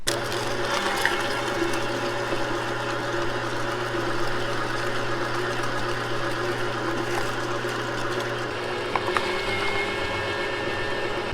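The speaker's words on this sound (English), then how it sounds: "It's horseradish grinding time." An electric grinder processes horseradish with a steady, droning motor hum and occasional faint clatter. The sound continues without a break, and no one speaks.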